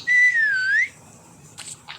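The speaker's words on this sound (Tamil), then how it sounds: "விசில் அடிக்கிறான். ஆனா எங்க இருக்காத தெரியல." A single bright, clear whistle in a Roblox game, a wavering tone lasting under a second, followed by a couple of faint short clicks.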